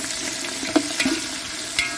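Onion, chilli, capsicum and carrot sautéing in hot oil, a steady close sizzle with a few brief stirring clinks.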